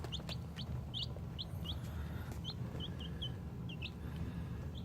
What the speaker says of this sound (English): these are 5 Buff Orpingtons